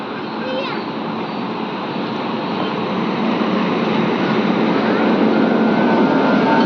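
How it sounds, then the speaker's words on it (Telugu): Crowded morning platform at Kakinada railway station, a dense, steady roar of crowd and train noise that builds slightly and holds loud throughout, with no clear single event standing out. "మొత్తం కాకినాడ రైల్వే స్టేషన్ అంతా కూడా ఫుల్ రష్గా అయితే ఉంది మార్నింగ్."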